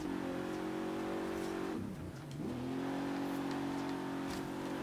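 An all-wheel-drive supersport car in Forza Horizon 3 drives at night, its engine droning loud and steady, dipping briefly as it shifts or lifts off, then rising again.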